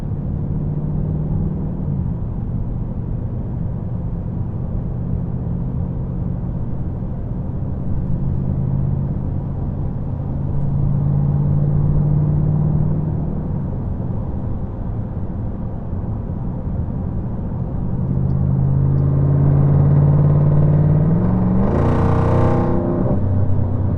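A 500-horsepower Dodge SRT driven on Alaska roads under light throttle holds a steady low engine rumble and road drone inside the cabin, swelling slightly near the end as a brief higher whir passes.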